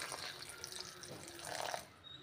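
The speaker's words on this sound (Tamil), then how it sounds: "தண்ணி ஊற்றிக்கோங்க." Water trickles and splashes quietly as it is poured into soaked lentils and rice in a grinder jar for adai batter, a short faint pour.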